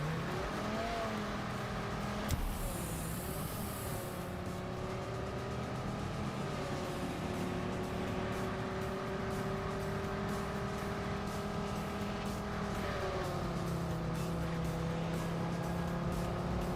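An engine drones steadily in a driving video game, the car off-roading as its pitch rises and falls with throttle changes, loud and continuous with no talk.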